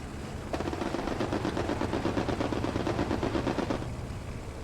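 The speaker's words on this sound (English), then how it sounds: "There we go, the strafe is coming." Sustained rapid gunfire from an aircraft strafing run in the World War II shooter Hell Let Loose, a dense continuous rattle lasting several seconds, loud and close, set over a low rumbling battlefield backdrop.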